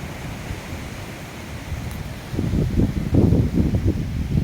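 Wind blows at a scenic spot along a coastal road among hills and trees, a faint airy hiss that turns into stronger low buffeting gusts in the second half, with no talk.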